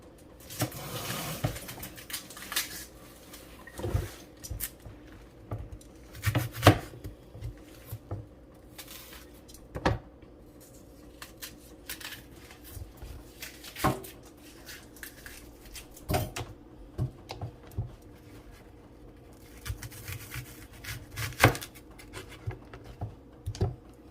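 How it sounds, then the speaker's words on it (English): A knife works through a red onion on a cutting board, giving sparse, irregular taps and soft scraping strokes, fairly quiet and close, spread across a long stretch with pauses between cuts. "Slice of onion. Cut it into the small pieces."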